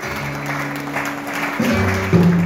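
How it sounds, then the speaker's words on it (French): A church congregation applauds together in acclaim of the Lord, a dense, steady clapping that swells near the end over sustained keyboard or organ chords. "Est-ce qu'on peut acclamer le Seigneur?"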